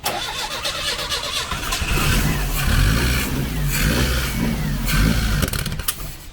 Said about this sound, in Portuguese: Aí daí, você pode ligar o motor e dar uma acelerada pra puxar.